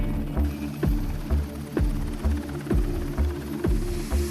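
A Seahawk helicopter on a Navy destroyer's flight deck makes a loud, close rotor throb, with regular heavy blade thumps about twice a second over a steady low turbine hum.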